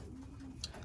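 A racing pigeon gives a soft low coo, faint and brief against a quiet background with a light tick of movement.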